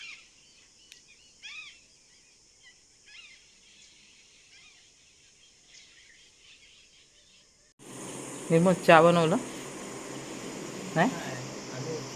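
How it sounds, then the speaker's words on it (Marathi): Distant birds chirp and trill faintly over a quiet background in the village countryside at Badlapur, then a person starts talking close by while a bird call repeats. "पक्ष्यांचा आवाज बघा"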